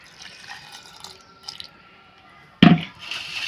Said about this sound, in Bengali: এখানে আমি কিছুটা জল দিয়ে দেব।